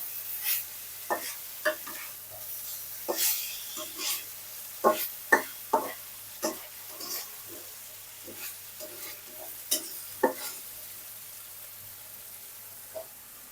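A spatula stirs fish frying with tomato and cauliflower in a pan, making irregular scraping knocks over a soft, steady sizzle, with no talking.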